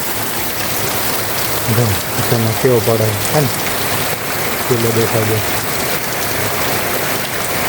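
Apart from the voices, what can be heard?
heavy rain falling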